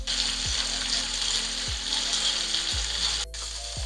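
Chicken skewers sizzle steadily in a hot pan, a constant bright frying hiss with a few soft low knocks as they settle, then a brief drop near the end before the sizzle resumes.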